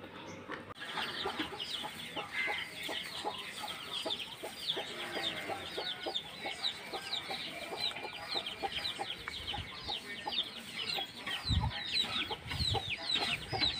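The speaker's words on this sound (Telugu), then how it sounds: "చెట్టు కింద చక్క చల్లదనానికి కోడి తన పిల్లలతో ఆహారం తింటుంది." A hen clucks with her chicks while they feed under a tree. Soft, repeated clucks and high chick peeps carry on steadily throughout, with a few dull thumps near the end.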